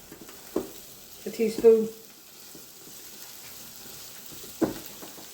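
Garlic cooks in a pan with a quiet, steady sizzle underneath, broken by a few utensil knocks and stirs, while a person speaks briefly.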